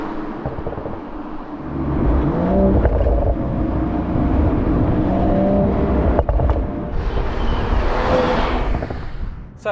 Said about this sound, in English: Nice, got a few pops and bangs.